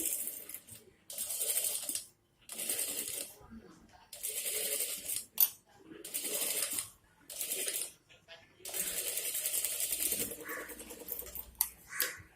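A sewing machine stitches blouse fabric in short, quiet bursts of fast, whirring clatter separated by silent pauses, with light clinks between runs and a voice speaking at times.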